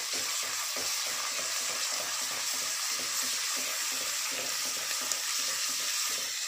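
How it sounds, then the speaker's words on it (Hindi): Onion paste frying in a pan as ginger-garlic paste goes in for dal makhani, a steady close sizzle with faint stirring scrapes throughout, no voices. "अब टाइम है इसमें अदरक लहसुन की पेस्ट डालने का।"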